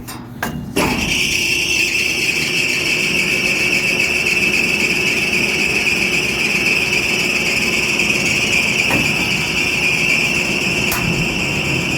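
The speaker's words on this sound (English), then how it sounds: "The blower's gonna kick back in" A blower on a Cambridge direct fired burner kicks back on with a sudden start, then runs as a steady, loud whooshing drone with a persistent tonal whine for the rest of the span, no voices present.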